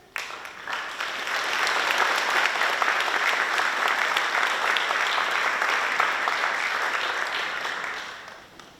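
Audience at a high school awards night breaks into sustained applause that swells quickly and holds loud and steady for several seconds before tapering off.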